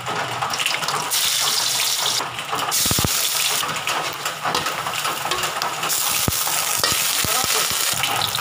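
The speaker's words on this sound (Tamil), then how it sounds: "எண்ணெய் நல்லா காய வச்சாச்சு இப்போ கடுகு உளுந்து பருப்பு போடுறோம்" Mustard seeds, urad dal and lentils crackle and sizzle in hot oil for coconut pepper rasam, with scattered pops and a brief clink of a utensil.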